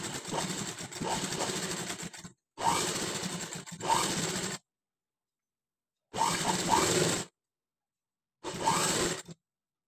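Sewing machine stitching patchwork fabric along a fold, running in four bursts of one to two seconds with silent pauses between, a steady whirring motor close by and no talking.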